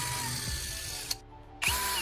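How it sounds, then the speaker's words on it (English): A power drill fitted with a sharpened screwdriver-bit wedge blade whirs loudly and steadily up close, stops briefly, then spins back up. "With our newly sharpened wedge blade, I'm inserting it into the power drill."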